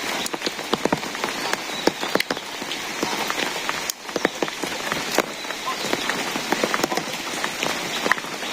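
Heavy rain falls on a hard surface, with dense, constant pattering and sharp individual drop hits, loud and close, no talk.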